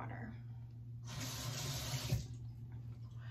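A bathroom sink tap runs in a steady close hiss for about a second, then shuts off, over a low constant hum.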